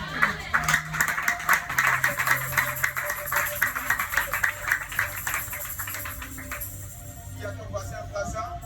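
Church worshippers clap together in acclaim during a morning service, a dense run of rhythmic claps over music and voices that thins out toward the end.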